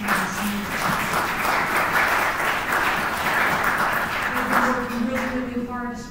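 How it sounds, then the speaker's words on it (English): A church congregation applauds steadily at a Christmas Eve service, a dense, continuous wash of clapping filling the room throughout, with some voices and a brief sustained tone near the end. "let's all applaud and give them a thank you for this year"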